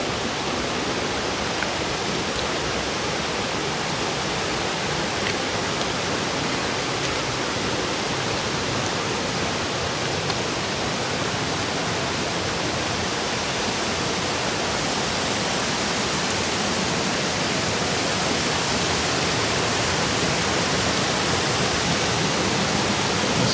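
River in Tollymore Forest Park running high after Storm Karen, a dense, constant roar of rushing water that stays even and loud throughout with no voices.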